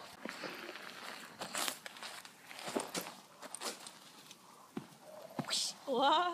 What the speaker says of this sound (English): Oh yeah, it is a horsey.